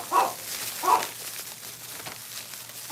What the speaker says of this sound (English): He always barking when he heard people and dogs.